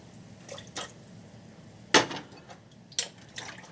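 Malanga dropped into a pot of water while cooking okra soup, giving a brief splash at about two seconds and a smaller clink-splash a second later over quiet kitchen background.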